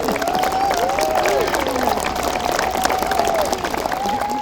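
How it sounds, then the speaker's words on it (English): An audience claps after a student's speech at a school strikes event, a dense, steady burst of applause filling the whole stretch at moderate loudness, with a voice faintly audible in the background. "Another round of applause for Chili."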